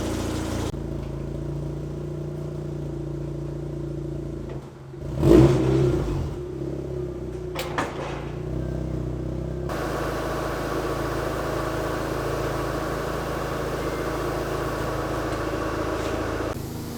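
A hybrid turbo Renesis rotary engine with factory air box and coil runs on a dyno, holding a steady droning note with a sharp loud burst early, then a brighter sustained run.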